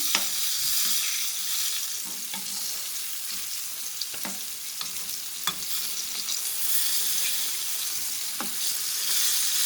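Fish fillet frying in a pan, a steady loud sizzle with crackling pops and occasional soft clinks, continuous and close without any voices.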